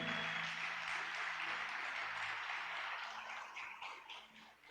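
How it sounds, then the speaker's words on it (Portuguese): A church congregation applauds during a worship service, a broad, steady wash of clapping from many people that fades slightly toward the end. "Aleluia, aplauda Jesus."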